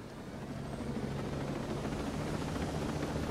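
Steady, low rumbling drone of a helicopter flying in the video game Ghost Recon Breakpoint, a continuous engine and rotor hum holding at an even, moderate level throughout with no talk over it.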